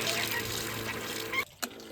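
Water rushes steadily from a hose into a tractor tyre, a close, hissing fill that cuts off abruptly, followed by a short gurgling spurt.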